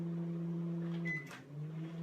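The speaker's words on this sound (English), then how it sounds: "Still got to have another 10 minutes cooking in the microwave, so we'll stick it back in." Microwave oven cooking tomato relish, a steady low electrical hum that cuts off after about a second, followed by a brief click and quieter residual sound.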